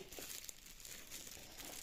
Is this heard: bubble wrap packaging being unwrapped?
yes